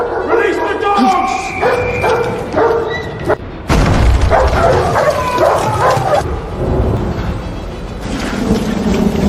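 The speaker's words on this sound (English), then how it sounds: "Release the dogs!" Dogs released to hunt a runaway wife on a royal manor estate bark and yip in a dramatic scene, the barks loud and close, mixed with voices, harsh noise and tense background sound.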